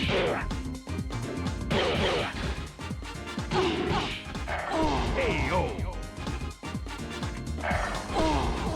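Kick landing on an opponent in the fighting game Tekken 2 on PS1, sharp impact smacks and crashes amid game music, with voices talking and in-game cries over the hits.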